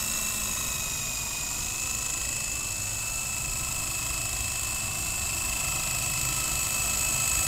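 Blade CX4 remote-control helicopter flying outdoors, a steady high-pitched electric rotor whine with a constant tone, close and continuous with no talking.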